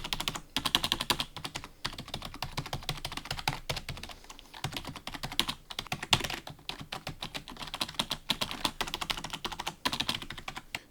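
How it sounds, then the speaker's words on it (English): Steady, rapid typing on a cheap RGB gaming keyboard, dense clacking keystrokes running continuously with brief pauses, close and fairly quiet, no voices. "So now testing the keyboard."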